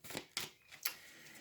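A tarot card deck is shuffled by hand in a few brisk, papery riffling bursts, followed by a soft steady hiss, quiet and close with no voices.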